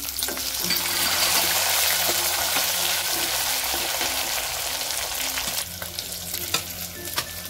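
Dal is stirred in a hot cooking pan, a close, continuous sizzle with scraping and clinks from the spoon, tapering slightly toward the end, with no talk.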